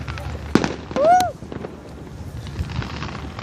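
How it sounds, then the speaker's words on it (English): Fireworks go off during a Fourth of July celebration, with a sharp crack followed by a brief whistling streak. A few softer pops and crowd noise continue in the background. "Well, fireworks."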